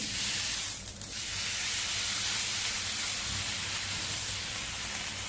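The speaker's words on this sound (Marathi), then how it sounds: "थालीपीठ आपल्याला तव्यावरती भाजण्याकरता टाकायचे" Steady sizzling hiss of a finger millet thalipeeth flatbread cooking on a hot griddle, close and continuous, with a brief dip near the start.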